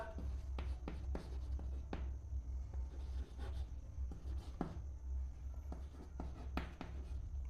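Chalk or marker scratching out an equation on a board during a physics lesson on a spring-mass system, a series of short strokes over a steady low room hum, with no talking.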